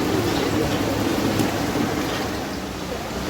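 Steady rain hisses continuously, a dense, even wash of patter with no voices over it.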